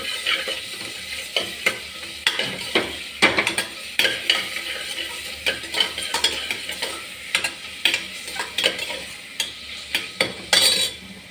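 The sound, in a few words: sautéing chopped big onions in a pan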